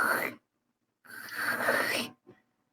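A person's voice imitates a sneeze with two breathy, hissing bursts and a short snort at the end, close to the microphone.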